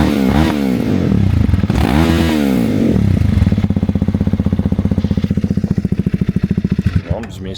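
A Suzuki DR-Z400SM motorcycle with a Yoshimura exhaust revs loudly close by, rising and falling twice, then settles into a steady throbbing beat that slows at the end.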